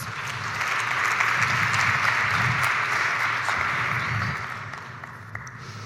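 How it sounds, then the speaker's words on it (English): A conference audience gives a warm round of applause, a broad, even roar of clapping that holds for several seconds, then tapers off near the end. "Please give them a very warm round of applause"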